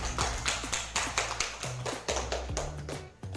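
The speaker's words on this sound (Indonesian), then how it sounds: "Pintar sekali, tepuk tangan buat semuanya." Students in a primary school teacher-training class clap in a steady, moderately paced rhythm, the claps sounding close and fairly quiet with no talking over them.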